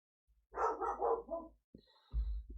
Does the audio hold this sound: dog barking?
yes